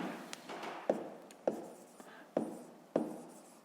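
Handwriting on paper in a math lesson, as a pen or chalk strokes out a sum: steady scratchy scribbling broken by about five sharp taps, near and clear with no talk over it.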